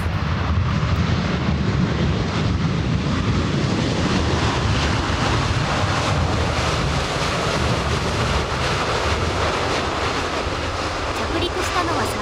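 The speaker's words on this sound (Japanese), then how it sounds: "着陸したのは札幌新千歳空港からの ANA ボーイング 787-8 です。" An ANA Boeing 787-8 from New Chitose lands at Osaka Itami Airport in stormy tropical-depression weather, giving a steady, loud broadband roar of jet engines and rushing air that holds evenly throughout.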